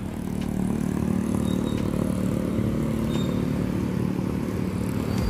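Black Suite V55 Padang–Jakarta intercity bus pulling out of a bus terminal in Solo, its engine giving a continuous rumbling drone with faint clatter, fairly loud and steady.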